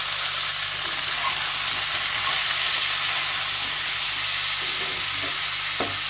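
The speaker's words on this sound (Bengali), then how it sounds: "আর পরিমাণ মতো হলুদ গুঁড়ো দিয়ে ভালো করে নেড়ে চেড়ে সবজিটাকে কষিয়ে নিতে হবে" Vegetables with turmeric sautéing in a hot pan, a steady loud sizzle filling the whole stretch with faint scraping stirs now and then, no voices.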